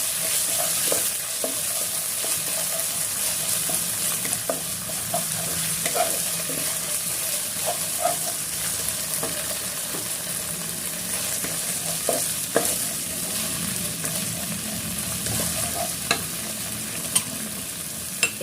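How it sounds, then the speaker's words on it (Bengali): Garlic and cumin paste frying in a pan while being stirred, a continuous close sizzle broken by repeated scraping strokes and small clicks of the spoon, steady throughout with no talk. "মশলাটাকে ভালো মতো ভেজে নেব"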